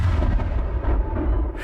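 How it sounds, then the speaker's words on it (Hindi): Cannon fire in a light and sound show at Ross Island in the Andaman and Nicobar Islands, heard as a continuous loud, booming low rumble with no voices. "हर रोज दोपहर को 12 तोपें छोड़ी जाती थी"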